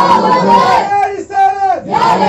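During a religious sermon, a large crowd roars the Takbir chant in unison, a loud and close call-and-response made of two long, harmonic bursts of shouting with a short gap between them.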